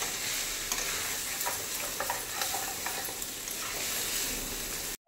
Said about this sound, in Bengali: এই যে ভালো করে মাছের মাথাটা আমি এই মশলার মধ্যে দিয়ে ভালো করে কষিয়ে দিচ্ছি।